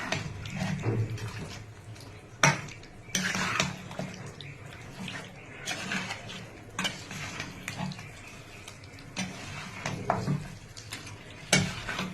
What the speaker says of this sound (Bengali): ভাজা পেঁয়াজের পেস্ট এবারে একটু নেড়ে করে তাকে হতে দেবো।